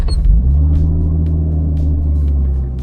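Race car engine rumbling loudly close by in a deep, steady idle with a strong low drone and a few sharp clicks on top, no voices.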